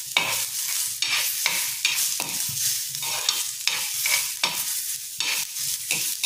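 Onions frying in a pan turn reddish as they are stirred, with loud, rhythmic scraping strokes about every second over a continuous sizzle, close by and with no talking.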